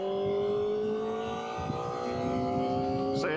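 Kawasaki ZX-4RR motorcycle engine with a bi-directional quick shifter, running steadily and close by with a strong, layered whine that climbs gradually, then a brief sharp rise near the end.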